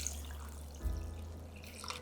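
Water poured from a container into a cooking pot holding aromatics such as a bay leaf and peppercorns, a soft, steady splashing that swells briefly partway through at a low, close level.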